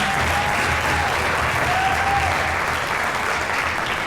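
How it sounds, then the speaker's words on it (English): Audience applause at a Caribbean tourism gathering's opening speech, steady dense clapping from a crowd filling the room throughout, loud and continuous with no break. "Antigua and Barbuda, you give yourself an extra clap, well done."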